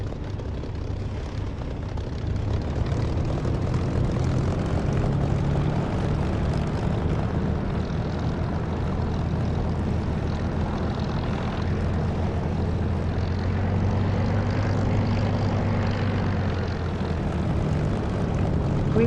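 A flight-sim aircraft taxiing in DCS or War Thunder gives off a steady, loud propeller-engine drone with a low rumble that holds evenly throughout, with no talk over it.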